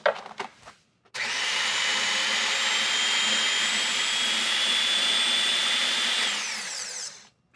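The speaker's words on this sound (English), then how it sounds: "you're gonna have to constantly sort of like draw it back to the bottom of the blender until it's properly pulsed together." A kitchen blender pulses akara batter in one long, loud, steady whir that starts abruptly and cuts off after about six seconds, preceded by a few short bursts.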